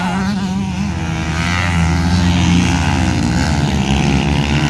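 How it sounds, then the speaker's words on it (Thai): A racing car drives around a race track, its engine a loud, close, continuous drone with strong tones that waver and climb slightly in pitch. "เปลี่ยนบรรยากาศมาดูคลิปรถแข่งกันบ้างครับ"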